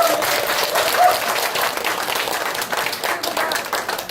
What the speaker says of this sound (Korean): 한 분 한 분 소개해드릴 때마다 아낌없는 큰 박수 부탁드리겠습니다.